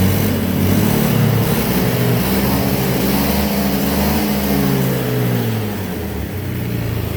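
A Honda Beat FI scooter engine idling with a smoky exhaust and high fuel consumption, a loud, steady close-up drone with a slight dip in revs toward the end and no talk.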